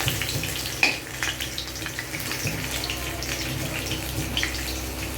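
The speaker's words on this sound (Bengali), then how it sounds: "দেখো আলুগুলো একে একে ভাজছি।" Potatoes fry in hot oil in a home kitchen, giving a steady soft sizzle and bubbling throughout, with a few small clinks and pops along the way.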